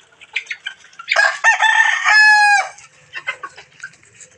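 Loud crowing from a rooster, a long harmonic call preceded by short squawks, with softer clucking before and after.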